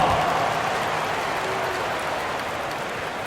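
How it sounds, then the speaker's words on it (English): Crowd applause and cheering in an NBA basketball video game on PS5, Chicago Bulls versus Philadelphia 76ers, a steady wash of arena noise that holds at an even level throughout. "Let's give them a big round of applause"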